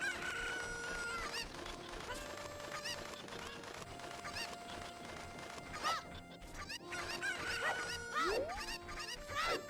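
Chickens cluck and squawk in the Kakariko village of the Zelda Ocarina of Time video game, with game music and sound effects mixed throughout.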